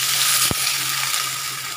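Water from a mixer grinder bowl goes into a hot pan of spiced sauce with sugar and turmeric, giving a steady, loud, hissing sizzle with one brief splash. No one talks.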